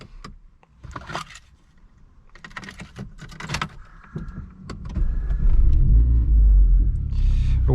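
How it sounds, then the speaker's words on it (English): A 2012 Renault Megane RS Trophy goes from clicks and rustling inside the cabin to a starter crank, then the engine catches into a loud, steady low idle that continues to the end, with no speech. "So let's actually start the car."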